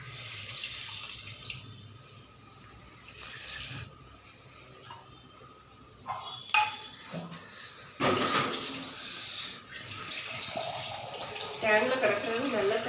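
Tamarind water is poured for a fish curry, a running, splashing pour rising in the later seconds, with kitchen clatter and someone speaking Tamil nearby.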